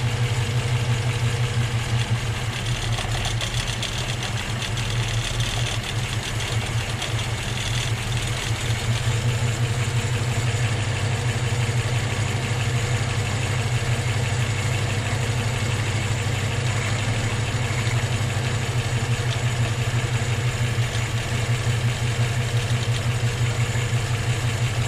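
A Honda B18 engine fitted with a Weber 32/36 carburetor idles with a steady low rumble throughout, loud and close with no pauses or talking.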